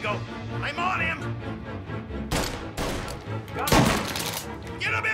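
Gunfire crackles in Mafia: Definitive Edition, with bursts of loud shots and a heavy volley punctuating the mix while someone talks urgently over the action.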